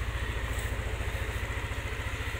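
A 2016 Yamaha NMAX 150cc automatic scooter engine idles steadily up close, with an even, fast low-pitched pulse and a faint mechanical clatter, alone and without talk.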